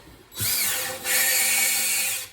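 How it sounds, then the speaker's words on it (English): Valve lapping on a 1962 Slant Six engine, with a valve spun against its seat in grinding grit, producing a steady close gritty rasp that runs about two seconds with a short dip midway. "you can really hear that one kind of get the grit in there, and then it sort of smooths out"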